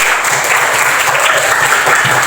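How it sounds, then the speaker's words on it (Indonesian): Classroom applause for a student who answered correctly, a steady burst of many hands clapping close by, dense and continuous for a couple of seconds with no voices over it. "Kita berikan aplaus untuk teman kita."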